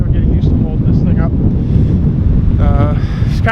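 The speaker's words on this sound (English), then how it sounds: "It's kind of windy today" Strong wind buffets the microphone on a walk in a park, producing a loud, steady low rumble throughout, with faint voices in the background.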